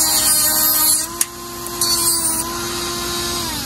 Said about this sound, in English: Now I'm gonna take this Dremel tool